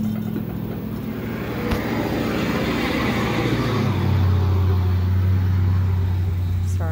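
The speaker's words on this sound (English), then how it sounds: "Sorry, loud truck." A loud truck rumbles past outside, its deep engine drone swelling and holding steady for several seconds.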